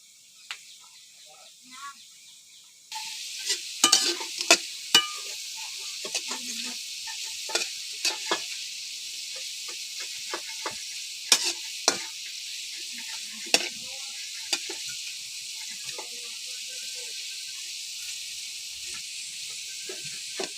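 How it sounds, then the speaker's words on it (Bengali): Potatoes fry in a pan with a steady sizzle, broken by repeated scraping and stirring clicks. The sizzle starts quietly, then grows louder after a few seconds and continues close up without speech. "এইভাবে আলু ভেজে দিলে সবারই পছন্দ হয়"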